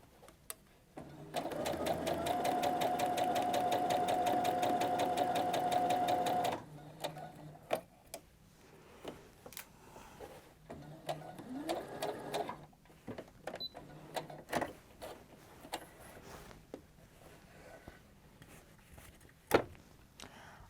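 A sewing machine runs steadily for about five seconds, stitching the lining of a fabric grocery tote, then stops, followed by quiet handling clicks and small rustles.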